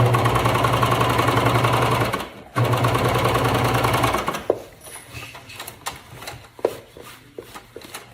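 A sewing machine runs steadily while top stitching a leggings seam, a fast mechanical whir that pauses briefly, resumes, then stops and gives way to scattered handling clicks.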